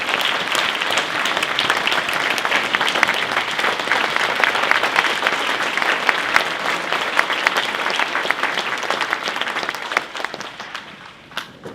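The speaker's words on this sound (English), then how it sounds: "So let's have a round of applause for middle school teachers." Sustained, even applause from an awards audience at the Dale City Civic Association's 50th anniversary celebration at the Hilton Performing Arts Center honors middle school teachers, steady throughout and tapering at the end.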